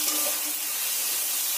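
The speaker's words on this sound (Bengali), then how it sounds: "ভালো করে কষিয়ে নিতে হবে এই মশলার সঙ্গে।" Okra (bhindi) fries with spices in a pan while being stirred into the masala, giving a steady close hiss and sizzle with no talk.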